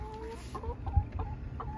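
Laying hens, brown and white, in a backyard coop let out soft clucks and short murmuring calls that come close and steady over a low background rumble.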